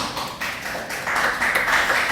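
A church congregation at a Wednesday worship service claps together in praise, a dense, steady patter of many hands filling the room, rising slightly in intensity toward the end.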